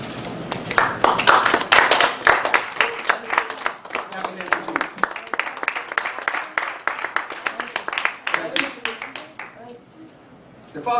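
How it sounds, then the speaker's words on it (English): A church congregation claps hands together in steady rhythmic beats, loud and close, with voices and singing mixed in before the clapping fades near the end. "Clap your hands for Jesus."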